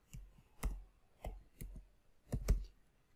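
Keys tapped on a computer keyboard, about five or six sparse, crisp clicks spaced unevenly, close and quiet.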